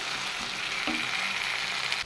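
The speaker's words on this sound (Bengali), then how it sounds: "এখানে দেখো পেঁয়াজ আদা রসুনটা ভাজা ভাজা হয়ে গেছে" Onion, ginger and garlic frying in a pan make a continuous crackling sizzle, close and even over a couple of seconds, with a brief scrape of stirring partway through.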